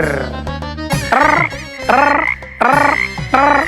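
A frog croaking sound effect plays as loud, close, rhythmic croaks, a rapid series of throaty bursts repeating about every half second, with no speech.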